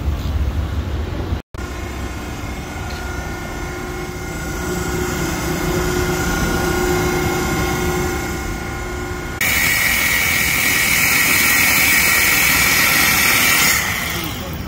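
A 2014 VW Jetta with a 1.8T turbo engine, Vibrant resonator and muffler delete, idling with a steady close drone and whine, then a brighter, louder rush of noise partway through that cuts back near the end.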